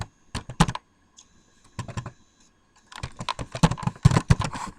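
Keys clack on a computer keyboard in short clustered bursts, crisp and close, separated by brief pauses with no talking.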